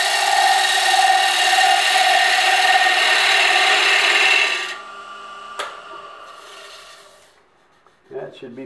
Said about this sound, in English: So I'm going to do bevel rubbing cuts for this last part.